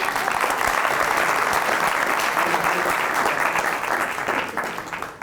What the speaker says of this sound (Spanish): Por favor, denle un aplauso